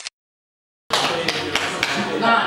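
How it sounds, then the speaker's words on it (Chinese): Scattered hand claps from a small gathering of classmates break out after a moment of silence and carry on steadily, moderately close, with a few sharper claps standing out. "这是大家鼓掌一下好吗？"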